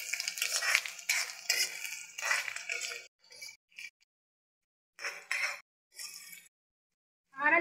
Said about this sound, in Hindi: लहसुन को भी कुछ समय के लिए भून लें।